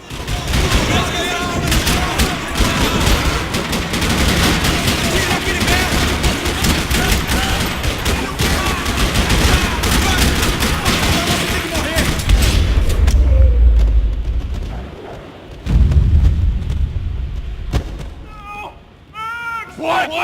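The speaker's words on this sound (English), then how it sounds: "Another parking lot rattling with gunfire." Rapid bursts of gunfire in a parking lot in the video game Max Payne 3 crackle and boom nonstop amid a loud, chaotic soundtrack, with voices shouting underneath, dropping off briefly near the end.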